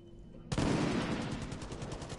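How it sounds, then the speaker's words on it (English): Sudden burst of gunfire in the video game Far Cry 5 multiplayer, a dense rapid volley starting abruptly after a quiet moment and continuing as sustained shots at moderate loudness. "How we know who's shooting sometimes?"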